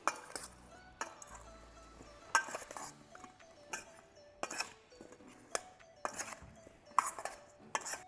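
Potato pieces being tossed with olive oil and seasoning for oven-roasted potatoes, producing a run of close clinks and clatters of utensil against bowl in irregular bursts, with no talking.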